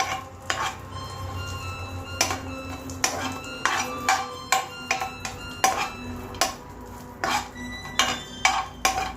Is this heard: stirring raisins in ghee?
yes